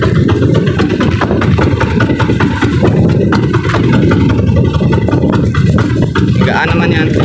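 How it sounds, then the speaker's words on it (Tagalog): A fishing boat's engine idles and sputters with a steady low rumble, as if on the verge of stalling, while voices talk over it throughout. "papatay-patay yung makina namin eh"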